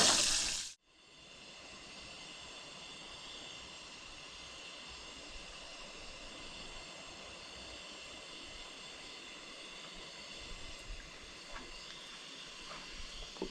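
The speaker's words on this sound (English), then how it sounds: "Let me flip my bacon." Bacon sizzling in a pan at a lakeside camp, a steady, even hiss that carries on unbroken after a brief louder clatter at the start.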